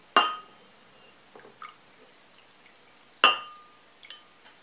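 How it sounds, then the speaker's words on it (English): Vinegar splashing into a bowl of red food-coloured water, heard as two sharp liquid impacts with a faint glassy clink and brief drips between them, close and otherwise quiet. "pour some vinegar"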